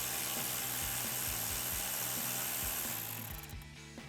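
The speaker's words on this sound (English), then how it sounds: "take a 10mm socket and a ratchet and remove this bolt right here" A ratchet with a 10mm socket removing a bolt during a Toyota Tacoma control arm install, a fast steady clicking under a constant loud background hum, fading near the end.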